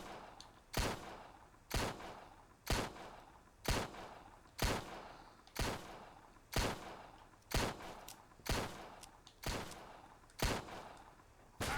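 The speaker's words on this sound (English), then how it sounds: "Suppress fire on Salts by the looks of it" Suppressive gunfire in the video game Empire of Sin: about a dozen sharp, loud shots in a steady rhythm, roughly one per second, each followed by a short decaying echo, with no talking.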